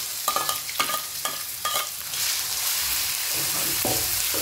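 Ginger and garlic stir-frying in hot oil in a wok for a Thai salted braised chicken dish, with stirring scrapes in a steady rhythm over a continuous close sizzle that grows louder and denser partway through.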